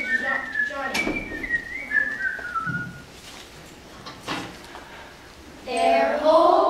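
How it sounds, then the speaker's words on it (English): A person whistles a short tune in a school stage performance, the melody wandering and sliding, with speaking around it and a louder burst near the end. "fished the brook, and whistled at his work. One tune was as fine as little Johnny."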